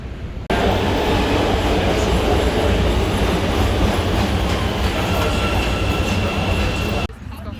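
A Chicago metro train rumbles loud and steady, with wheel clatter and a broad roar that starts abruptly and cuts off near the end.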